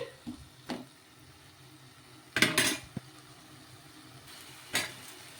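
Coconut fry being stirred in a pan, with a few separate scraping and clinking strokes of a spoon against metal spaced out over a few seconds, fairly close and moderately loud against quiet background.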